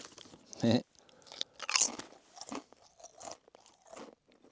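Crisps crunched and chewed close to the mouth at an Easter summit camp in the Northwest Highlands, a few sharp bites followed by softer chewing and quiet rustles.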